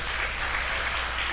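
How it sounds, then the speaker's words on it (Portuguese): A church congregation applauding during a worship service, a continuous, evenly dense patter of many hands clapping at moderate volume, with no speech over it. "Vamos aplaudir o nome do Senhor."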